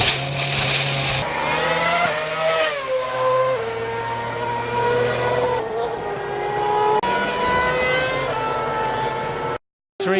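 A 2008 Formula 1 car engine, a Toyota, screaming at high revs with rising and falling pitch through gear changes, heard under broadcast ambience before a brief dropout near the end.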